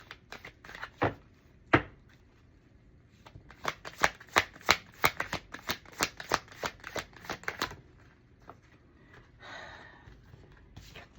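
A deck of cards being shuffled: a dense run of rapid riffling clicks and flicks, close and moderately loud, followed by a softer rustle as the cards settle.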